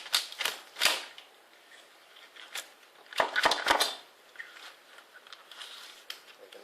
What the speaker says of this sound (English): Make sure you cut straight to the bottom of the shell.